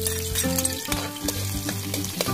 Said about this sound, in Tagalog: Lagay muna tayo ng mantika. Konti lang, mantika. Para magisa lang yung sibuyas at bawang.